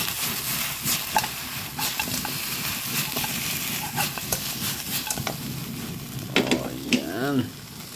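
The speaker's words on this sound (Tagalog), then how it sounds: "Yan oh, gisa-gisa muna natin mga idol." Chili leaves sautéing in a hot pan for chicken tinola, a steady close sizzle with scattered stir clicks, and brief voice-like sounds near the end.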